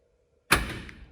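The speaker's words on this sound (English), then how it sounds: "Pops the door open." The door of a Datsun 620 truck pops open by remote alarm release, a single sharp close thud with a brief rattling decay after silence.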